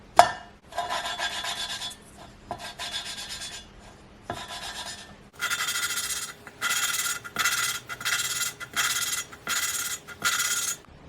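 Engine valves of a Ford Fiesta cylinder head are lapped by hand with lapping compound, a gritty rasping scrub in repeated short bursts, slower at first and then quicker and more regular, close and alone.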